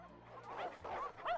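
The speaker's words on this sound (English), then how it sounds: "the sound of growls grew louder" Hounds growl and snarl in the video game Witch on the Holy Night, three short throaty bursts in quick succession, fairly faint but near and uncovered by any talk.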